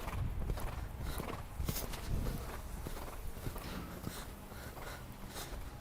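A horse's hooves clip-clop steadily across the arena during show-jumping practice before a competition, a continuous rhythmic run of close hoofbeats with no talking.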